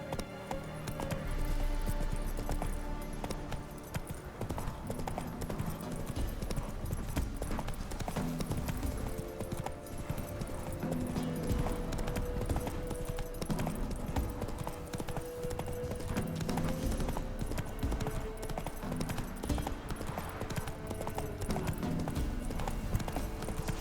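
Roach the horse galloping in The Witcher 3, a steady fast clip-clop of hooves running on and on at an even pace, fairly quiet, mixed with game background sound.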